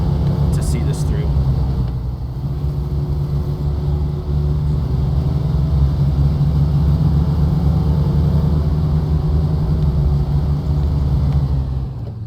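A heavy truck engine in the SnowRunner off-road game drones steadily under load, pushing up rough terrain on momentum rather than low gear, a loud, continuous low rumble that holds for the whole stretch.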